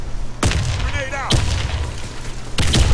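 In a video game battle, sharp booming blasts hit hard and close, three heavy impacts about a second apart amid ongoing combat noise, with a voice briefly audible between them.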